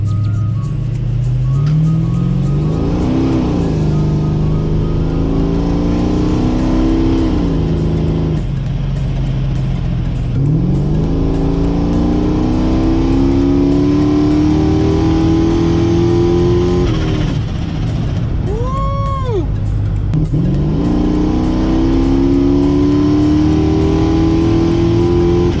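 A supercharged Dodge Dakota R/T with a smaller supercharger pulley revs and accelerates through several gears, its loud engine note climbing in repeated sweeps with a brief blow-off hiss partway through.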